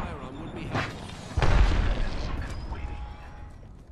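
An arc star is thrown in Apex Legends and detonates with a sudden booming burst partway through, followed by crackling electrical fizz and lingering game noise.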